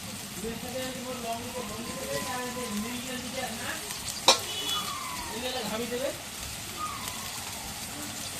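Garlic paste frying with mutton in a pot for a mutton curry, a soft continuous sizzle with a sharp clink midway, while a voice talks over it at moderate level.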